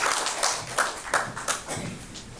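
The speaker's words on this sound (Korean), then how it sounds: "서로를 환영하는 박수를 여러분 함께 쳐주시기 바랍니다" Attendees at the founding ceremony of an interreligious national-security association clap to welcome one another, a moderately loud round with a few stronger, evenly spaced claps standing out from the crowd.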